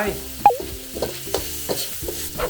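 Bacon and holy basil leaves stir-fried in a pan, a soft sizzle broken by rhythmic clinks and scrapes of a spatula against the metal, close up and without talk.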